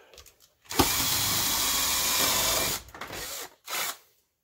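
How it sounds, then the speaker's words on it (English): Power drill boring through a brittle plastic workbench light diffuser, a loud, steady grinding whir lasting about two seconds, then a short second burst after a pause, close up with no talk. "What happens if I drill it?"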